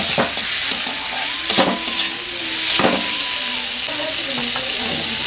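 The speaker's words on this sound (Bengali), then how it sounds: "টমেটো দেওয়ার পরে আমি ভালো করে নাড়াচাড়া করে" Tomatoes being stirred and fried with spices in a pan for a chicken and jackfruit curry, with a steady close sizzle and several scraping stirs of a spoon at an even rhythm throughout.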